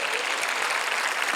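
A church congregation at the Yongsan peace-unification rally claps together in a brief, dense burst, the applause loud and sustained with no voice over it.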